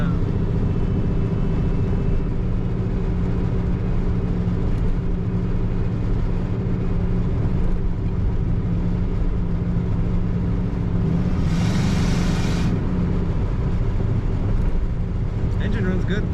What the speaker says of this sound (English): engine runs good.